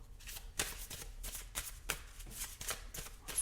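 A deck of cards being shuffled up close in a quiet room, with a steady run of soft riffling bursts and flicks that repeat about every half second.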